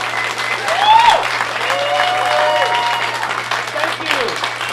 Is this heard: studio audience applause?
yes